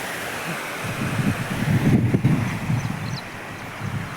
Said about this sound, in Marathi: हे पाणी जे वाहत आहे ना सांड्यातून